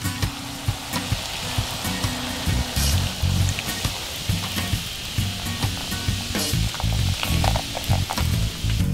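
Pub beer poured into a pot of cooking meat for beer cheese soup, a steady sizzle and liquid splash with irregular bubbling and stirring bumps, close and continuous.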